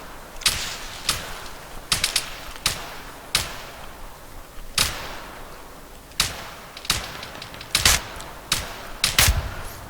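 Gunfire in the military shooter Arma 3, with around a dozen sharp, loud individual shots cracking at irregular intervals, each followed by a short echoing tail, and no talking between them.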